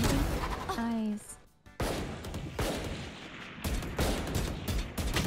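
Gunfire in Valorant, with a few sharp separate shots and short bursts at moderate level over background game noise, after a brief rising tonal effect at the start.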